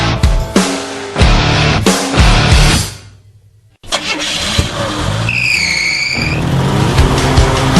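A Chevrolet Nova car drives through the hills of San Diego, its engine a loud, steady roar that cuts out briefly for a second and then returns, with a rising tonal whine toward the end.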